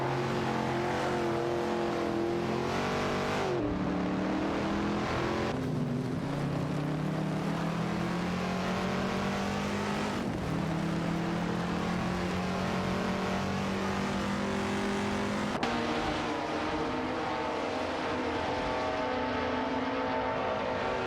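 Engines of a Chrysler Valiant Charger and a Shelby Cobra 427 race in a video game, a steady loud drone with shifting pitch and gear changes that carries on throughout without any talk.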